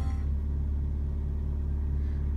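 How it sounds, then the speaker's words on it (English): Ford Fiesta Mk6 engine idling slightly high after throttle body and MAF sensor work: a steady, close, low rumbling hum with an even pulsing tone and no talk. "So it's revving, maybe just a little bit high"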